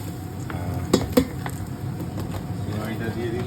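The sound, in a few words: stirring fried vermicelli in ghee in a pan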